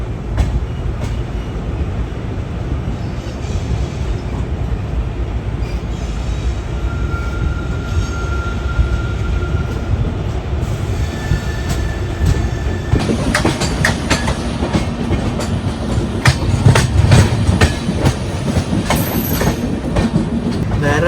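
The Thiruvananthapuram Rajdhani Express rolls along the rails with continuous loud rumble and rhythmic clickety-clack, heard from inside, growing busier with sharper clatter in the second half.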